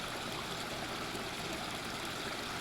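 A mountain stream rushes past with waterfalls along the Tumalo Falls trail near Bend, Oregon, a steady, full, close wash of flowing water without pause or talk.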